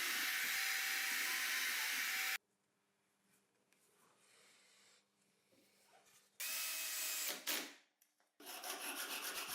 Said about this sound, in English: I'll drill holes for the joint bushings.